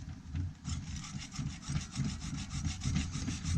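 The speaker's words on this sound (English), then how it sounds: "and start sawing" A hand saw rasps steadily through wood in quick, regular back-and-forth strokes, close up and continuous with no talking.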